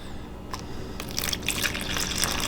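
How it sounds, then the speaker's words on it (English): Water is added to dumpling dough for a St. Lucian one-pot dish. After a brief quiet start, a close, splashy pour rises and continues steadily. "You know, add the water."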